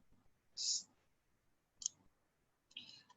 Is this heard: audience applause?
no